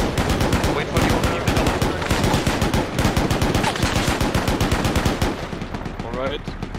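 Rapid bursts of enemy machine gun fire in a World War II tank combat video game, loud and continuous for several seconds.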